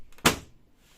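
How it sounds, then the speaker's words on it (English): The front door of a Xerox VersaLink B405 printer is shut, giving one sharp plastic thunk with small handling clicks just before it, close and clear in a quiet room. "Then close the door,"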